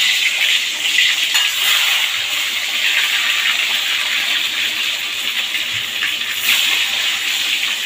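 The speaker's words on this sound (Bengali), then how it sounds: "এবারে ডিমগুলো একে একে তেলের উপর দিয়ে দেবো।" Eggs dropped into smoking-hot oil for an egg curry produce a loud, dense, hissing sizzle that holds steady for several seconds, close by and unbroken by voices.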